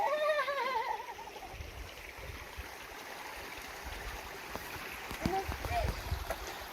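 A creek on the Pacific Crest Trail near mile 300 gurgles and rushes steadily at low volume, with a voice and a brief high animal-like whine heard over the flowing water.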